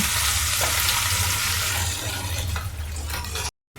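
Gongura leaves hit hot oil in a pan, filling the scene with a loud, dense, continuous sizzle and crackle up close, which cuts off abruptly into silence at the end.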